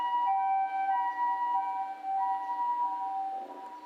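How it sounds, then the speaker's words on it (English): Outdoors, a Japanese ambulance siren cycles through its alternating two-tone wail, steady at first and then fading slightly as it moves away. "that's the ambulance sound."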